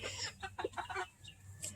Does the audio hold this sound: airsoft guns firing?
no